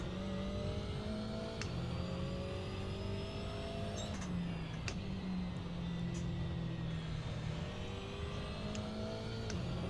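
Simulated race car engine in Assetto Corsa revving steadily with rising and falling harmonic tones and sharp exhaust pops and crackles at intervals, loud and continuous throughout with no talking.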